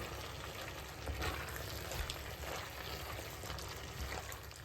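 Tomato paste with chopped tomatoes fries in a pan under stirring, a quiet, continuous sizzle with faint scraping, fairly distant and low in level.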